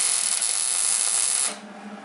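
Welding on a Subaru engine part during a head gasket teardown: a loud, steady crackling hiss runs close-up for about a second and a half, then cuts off, leaving a quiet hum.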